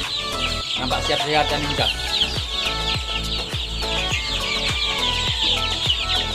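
Joper chickens raised on maggot feed cluck over a dense, steady backdrop of farm noise, with repeated short calls throughout and a voice speaking briefly in the middle.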